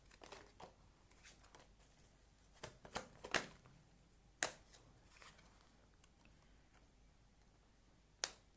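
Tarot cards handled close up in a quiet room: scattered soft flicks, light taps and crisp snaps of card stock, irregular and sparse, with one sharp slap near the end.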